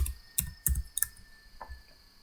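Typing on a computer keyboard while entering answer options into a Google form: a few quick, close key clicks in small bursts, then a couple of softer taps in a quiet room.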